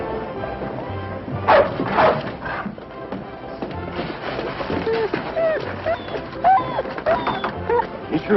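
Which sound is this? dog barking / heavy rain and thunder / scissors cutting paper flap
dog barking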